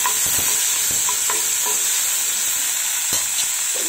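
Chopped potato and tomato fry in hot oil for Maggi noodles, a steady close sizzle with a few soft scrapes and taps from stirring.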